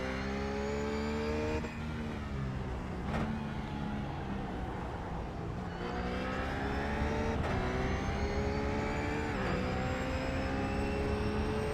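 Heard from inside a RUF S3 R8 race car at Phillip Island circuit, the engine roars continuously, revving up through gears with sharp shifts and rising whine, loud and close.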